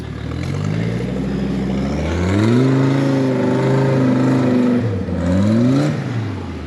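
Rock crawler buggy fitted with four-wheel rear steer climbing an off-road obstacle at an OHV park, its engine loud and close, revving up and down in rising and falling surges throughout.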